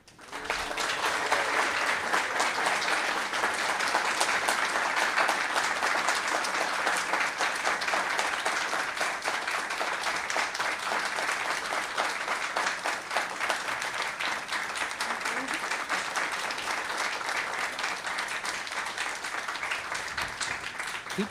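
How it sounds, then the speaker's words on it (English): Sustained audience applause follows an inaugural university lecture, a dense continuous patter of many hands clapping for about twenty seconds at steady strength, with no voices over it. "Please continue the applause for Professor Keulder."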